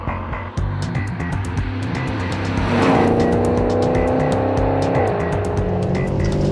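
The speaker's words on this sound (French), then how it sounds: "Après avoir admiré le V8 et ses couvre-culasses rouges, on le réveille d'un simple tour de clé." A 2012 Maserati GranCabrio Sport's V8 is started with a key, then settles into a loud, close idle whose deep rumble swells into a rev before dropping back to a steady, throbbing idle.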